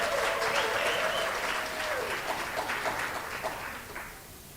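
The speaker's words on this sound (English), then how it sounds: "A round of applause." Audience applause at a panel discussion launch event, a sustained wash of clapping that fades toward the end, with a brief voice-like tone and faint murmurs mixed in.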